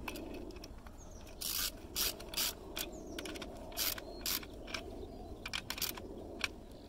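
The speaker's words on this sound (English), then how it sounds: "I've just got to do these top bolts up." Ratchet tightening the top bolts where a scrap-built wind turbine tower meets its extension pipe coupling: bursts of rapid clicking pawl strokes in irregular groups, close but fairly quiet over background hum.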